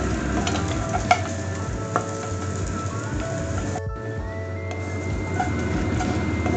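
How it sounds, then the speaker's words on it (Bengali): Peanuts fry in a pan over a gas flame, a steady close sizzle with light rattling and scraping as they are stirred, brief clicks now and then. "বাদামটা দিয়ে একটু ফ্রাই করতেই হবে"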